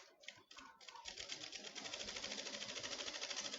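A sewing machine stitches decorative ribbon trim onto a curtain, starting with a few short bursts before settling into a fast, steady mechanical whir with a regular rhythmic clatter, close and clear.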